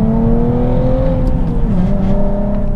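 A sports car accelerates hard under full throttle, its engine note climbing steadily, then dips briefly as it shifts from second to third gear before pulling again, loud and close.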